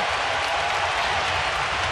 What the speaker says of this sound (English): And the crowd loving it here at the Staples Center.